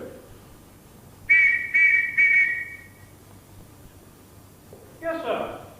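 A whistle is blown in three quick, shrill blasts during a theatre company's stage show, followed moments later by a short burst of voice.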